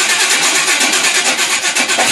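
A loud car engine runs steadily with a rough, throbbing drone throughout, close by and filling the whole moment.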